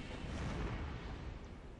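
An explosion in the video game Dark Souls II during co-op play, a rumbling low boom that swells and lingers as a sustained roar through the whole moment, fairly quiet overall, with no talk over it.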